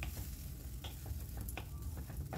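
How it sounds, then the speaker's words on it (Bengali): Egg bhurji frying in oil in a pan gives a close, dense sizzle with constant crackle, broken by quick scraping stirs. "ডিমটা দিয়ে ডিমের একটা ভুর্জি বানিয়ে নেব।"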